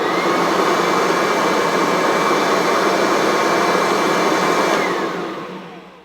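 A Kirby Sentria 2 dirty fan vacuum cleaner runs with a loud, steady, airy roar and whine close by, then spins down and fades over the final second or so, with no talking.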